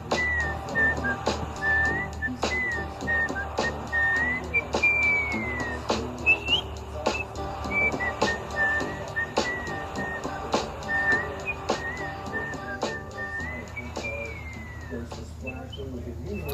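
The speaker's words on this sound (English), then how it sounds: "Got a whistle." Someone whistles a slow, wandering melody alone, clear and close, with soft taps and clicks scattered underneath.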